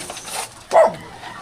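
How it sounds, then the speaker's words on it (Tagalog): A small puppy gives a single short, close bark, with faint background noise before it. "May tuta rin pala dito."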